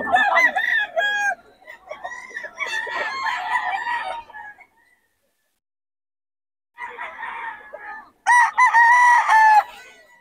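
Roosters and hens at a busy cockfighting venue in Bocaue, loud close crowing calls and clucks in repeated bursts, with a quiet gap before a final strong crow.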